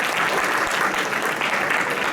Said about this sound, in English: Let's give another round of applause to Dave Sullivan